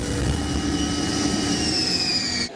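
A jet warplane flies in near stall speed to land on an aircraft carrier deck. It gives a loud, steady roar with a high whine that slowly falls in pitch, and no one speaks.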